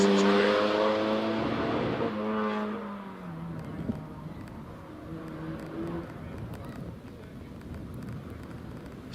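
Highly tuned Mazda MX-5 racing up the Prescott hillclimb, engine note loud and near at first with rising gear-change harmonics, then fading into the distance under an excited commentator's voice.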